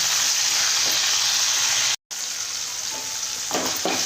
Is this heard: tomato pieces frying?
yes